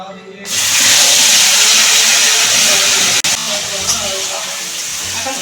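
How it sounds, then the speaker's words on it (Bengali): Onions added to hot oil with dry red chilli and whole spices burst into a loud sizzle that starts abruptly and hisses on steadily, with a brief break midway. "পেঁয়াজটাকে আমি দু মিনিট ভেজে নিচ্ছি"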